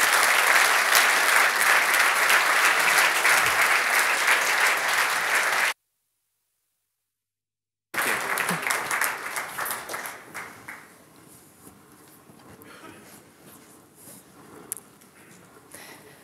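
Audience applause for a keynote speaker at a digitalisation policy event, loud sustained clapping from a large crowd that cuts briefly, resumes, then fades to scattered claps and quiet room noise.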